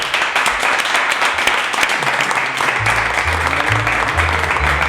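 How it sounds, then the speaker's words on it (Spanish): A crowd applauds loudly and steadily throughout, a dense wash of clapping with some background voices mixed in. "¡Un aplauso!"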